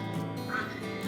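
Ducks quack in a neighbour's yard on a homestead, a short burst of calls at moderate distance amid steady background noise.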